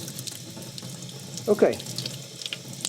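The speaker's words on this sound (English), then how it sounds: "So now we're at a point where there's no dark water being rinsed off." Tap water running over metal parts at a sink to rinse off Fertan chemical rust remover, a steady close splashing hiss with a brief louder gush midway and a short spoken word.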